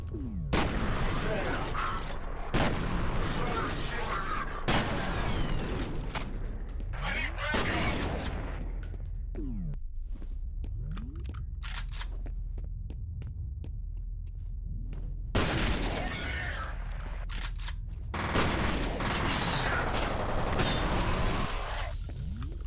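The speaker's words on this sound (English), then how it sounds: "I don't know why the fire extinguishers are like little explosions like that." Fire extinguishers bursting like small explosions in the first-person shooter F.E.A.R., with several loud sharp blasts and bursts of gunfire-like cracks scattered through a busy stretch of game action, separated by quieter rumbling gaps.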